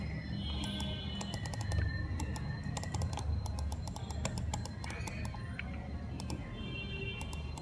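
A white Mi Wireless Mouse clicking repeatedly: a fast, steady run of sharp, close clicks over a constant background hum.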